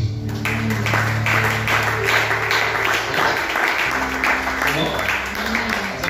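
A church congregation applauds and cheers for Jesus, a steady wash of clapping and voices sustained throughout over sustained low music.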